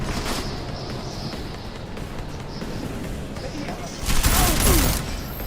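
Cover-fire gunshots in Deus Ex: Mankind Divided sound as a continuous low rumble of game noise, then swell into a loud, dense burst of firing near the end before easing off.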